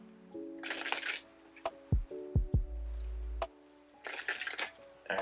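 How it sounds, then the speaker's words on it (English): Tarot cards shuffled in bursts of crisp riffling and flicking, close and fairly quiet, over a soft sustained musical tone with a few low thumps between the bursts. "let me get more intuitive messages as I shuffle these decks"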